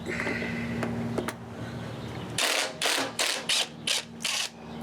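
Screws being backed out of a wood-turned purpleheart bowl, a series of short ratcheting, clicking bursts in quick succession after a quiet stretch with a steady background hum.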